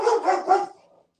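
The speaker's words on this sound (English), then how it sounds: "Our dog doesn't like that" A household dog gives a quick burst of three close, loud barks, cut off abruptly with silence after.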